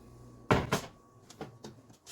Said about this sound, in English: Cover up your pot and place it in the oven.